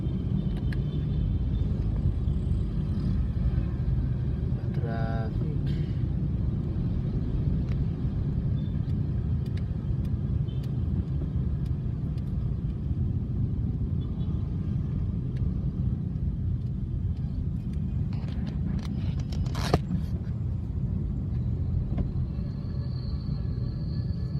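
Heavy road traffic crawling uphill toward McKinley Hills, a steady low engine rumble of many vehicles close by, continuous with a brief higher sound near the end and no talk.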